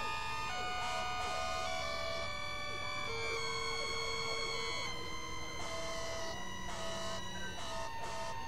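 Emergency vehicle sirens, manually cued, wail and overlap at a Christmas fire parade, several rising and falling tones sounding together steadily and fairly loud, with faint voices underneath.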